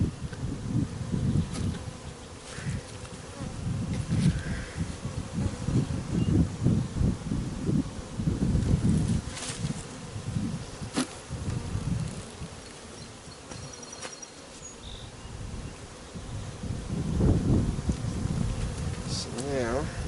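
Honey bees swarm around an open hive during an inspection, a dense, fluctuating low buzz close by with swelling and fading waves, plus occasional rustles of handling.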